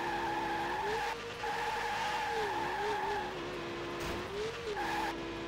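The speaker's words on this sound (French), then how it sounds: "il va falloir vraiment empêcher la voiture de partir en glisse de l'arrière" Formula One car from the Dreamcast game F1 World Grand Prix sliding at the rear, a loud sustained engine whine with wavering pitch and continuous tire skid noise throughout.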